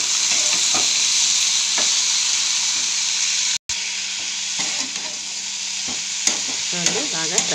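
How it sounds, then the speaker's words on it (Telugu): Thin raw potato slices frying in a pan give a steady, close, dense sizzle with occasional stirring scrapes and one very brief dropout midway. "చూడండి బాగా ఫ్రై అయ్యాయి కదా"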